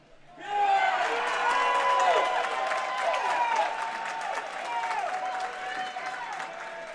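A college tennis crowd at a men's doubles match between MTSU and Michigan State bursts into loud sustained applause and cheering after a point, with a commentator's voice underneath.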